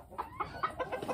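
Small Mille Fleur and Barbu de Watermael bantam chickens cluck in quick, repeated bursts while being fed a mix of corn pieces, sunflower seeds and mealworms, several close birds chattering steadily with no talk.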